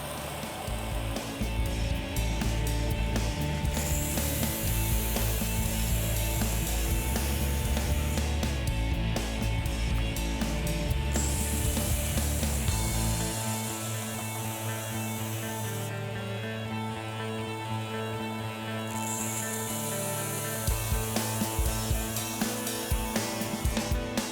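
A knife edge is worked on a motorized felt belt sharpener to shrink the burr. A loud, steady whir runs throughout, with two long, brighter grinding stretches as the blade makes its passes.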